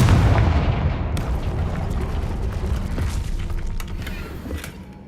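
A fire spell blast in the video game Hogwarts Legacy booms loudly at the start, then a rumbling, crackling debris tail fades away over several seconds.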